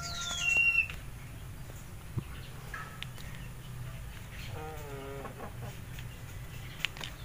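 A Pelung rooster clucks in short stuttering bursts, with a brief higher call near the start, over quiet farmyard background noise.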